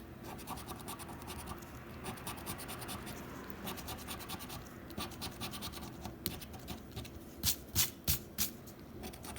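A scratch-off lottery card is rubbed with steady, rapid scratching close up, ending in a few louder, sharper strokes.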